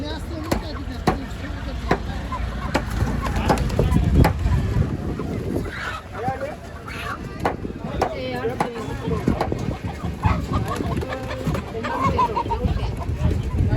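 Chickens cluck and a rooster calls intermittently amid a busy outdoor scene, with people talking and clattering nearby.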